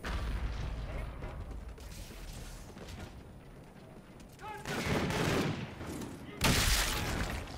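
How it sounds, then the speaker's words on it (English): Sniper rifle shots ring out in a video game sniping battle, several sharp cracks and bursts over a noisy in-game background, with a loud blast near the end and a voice talking at times. "It's a sniping battle, dude."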